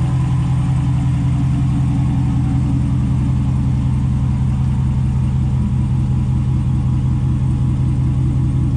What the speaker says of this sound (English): Here's the Borla cat-back exhaust system.